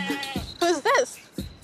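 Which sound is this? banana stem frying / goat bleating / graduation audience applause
goat bleating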